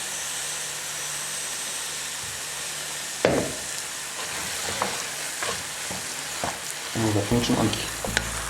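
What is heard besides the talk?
cheese added to frying wholemeal spätzle, sizzling in pan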